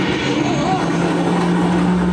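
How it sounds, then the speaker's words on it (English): Cartoon helicopter in a Robot Chicken sketch, a steady engine drone with a pulsing rotor hum held throughout, loud and close, with a brief vocal sound over it. "The helicopter."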